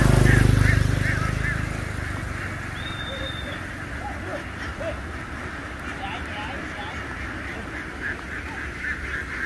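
A huge flock of around 7000 egg-laying ducks out in a field, a dense continuous wash of quacking and calls with a steady noisy background throughout.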